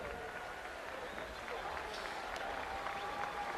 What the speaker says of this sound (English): Crowd applauds.